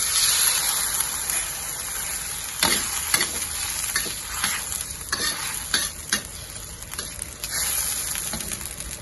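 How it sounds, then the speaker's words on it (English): Onion and garlic frying in a pan, an even, dense sizzle running throughout, broken by a series of sharp scrapes and clinks from a stirring utensil. "Fry until you can smell the fragrance from the onion and the garlic"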